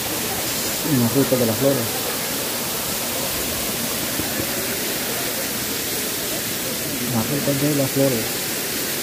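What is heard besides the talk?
waterfall, Don Juan waterfalls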